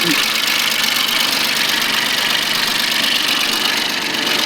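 Close and steady, the overhauled engine of a Japanese mini tractor idles with an even mechanical drone and faint knocking, a brief voice cutting in at the very start.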